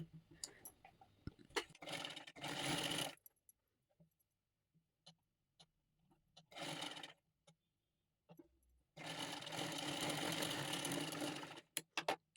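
A sewing machine stitches the lining of a princess-cut blouse in several bursts of rapid whirring, separated by quiet pauses filled with small clicks and handling taps.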